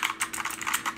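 Rapid typing on an E-YOOSO K600 retro mechanical USB keyboard, a close run of sharp, bright key clicks in quick irregular rhythm with no talking.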